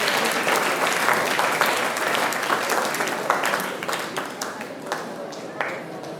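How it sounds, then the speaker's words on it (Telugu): An audience at a chess tournament ceremony bursts into sustained applause for the guests, many hands clapping loudly together before thinning into scattered claps. "గట్టిగా చప్పట్లతో అతిథులను గౌరవిద్దాం."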